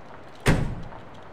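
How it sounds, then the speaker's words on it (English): A door opening in the horror game Shadow of Pharos: a single abrupt, loud creaking swing that flares up and fades over about half a second against a low background hum. "Someone just opened a door."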